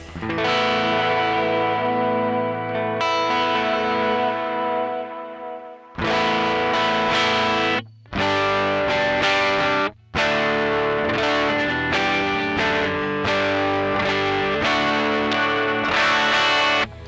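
Electric guitar played through a budget worship pedalboard built around a Cube Baby unit set to an AC amp tone, with distortion and chorus: sustained chords and ringing note runs with brief gaps, loud and continuous with no voice.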